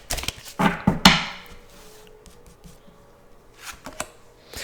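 Borderless Rider-Waite tarot cards being shuffled, a burst of crisp riffling flicks early on, then quieter taps and a few soft card rustles later.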